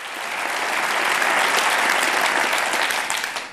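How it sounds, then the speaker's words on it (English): An audience in a hall applauds Chris Riddell after he pins a gold Blue Peter badge to his lapel: steady, dense clapping from many hands that swells and holds for a few seconds, then starts to thin out. "I've never been applauded for wearing a badge before"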